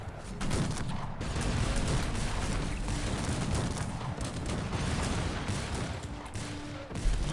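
Continuous heavy battle noise from the Cossacks 3 strategy game, with mortar fire mixed into a dense, steady wall of gunfire and booms that stays loud for the whole stretch, one sharper blast near the end.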